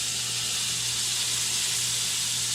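Potatoes frying in a pan on a stovetop, a steady, even hiss of sizzling oil that holds unbroken throughout, with a faint low hum underneath and no talking.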